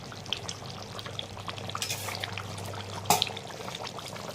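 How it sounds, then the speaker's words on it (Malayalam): A small spoonful of raw coconut oil poured over a simmering Kottayam-style toddy-shop fish curry, with soft close liquid trickles and light spoon clinks over a gentle low bubbling. "ഒരു ചെറിയ സ്പൂൺ പച്ച വെളിച്ചെണ്ണ അതിൻ്റെ മണ്ടയിലാണ് ഒഴിച്ച് കൊടുക്കുക"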